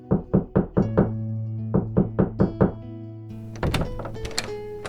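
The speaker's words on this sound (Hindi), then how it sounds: "तभी किसी ने उनके घर का दरवाजा खटखटाया।" Cartoon knocking on a house door: two quick series of four firm, hollow knocks close up, then a brief clatter, with a steady musical tone underneath.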